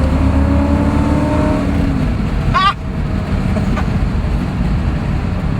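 A 1966 Corvette Stingray coupe cruises at about 45 mph, its engine a loud steady drone under heavy road and wind noise, the pitch dropping briefly as it shifts.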